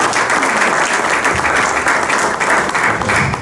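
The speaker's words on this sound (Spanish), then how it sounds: "Queremos pedirles pues un aplauso para él y darle la palabra." An audience at a gathering in Peru claps loudly and steadily, a dense continuous wash of applause with no talking over it.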